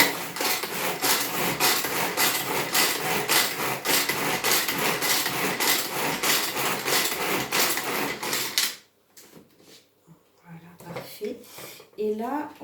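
A universal grinder mill blends gruyère with powders in a loud, steady whirring grind lasting about nine seconds. It stops abruptly, then quiet handling noises and a voice follow.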